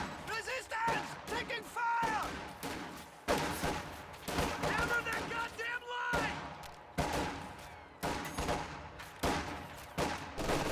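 Rapid gunfire and machine-gun bursts crackle through a video game battle involving MGs and grenadier squads, with dense, uneven volleys rising and falling while a commentator talks over the action.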